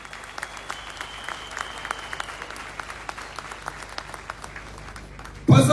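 Audience applause at an opening ceremony for a covered market hall, steady clapping through the whole stretch with a loud burst near the end.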